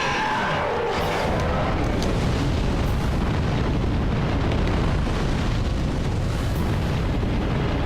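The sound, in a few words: fire blasting across the path in Dark Souls 3 (video game)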